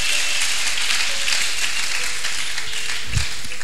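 A church congregation applauding and cheering during a French-language sermon, dense sustained clapping from many hands, loud and close, with a brief low thump near the end.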